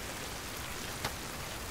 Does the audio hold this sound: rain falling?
yes